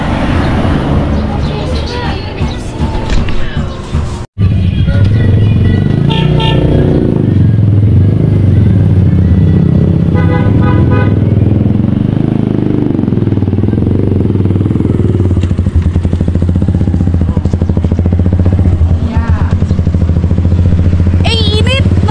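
A motorcycle engine starts and then runs loudly nearby, its steady idle rumbling beneath street traffic and people talking throughout.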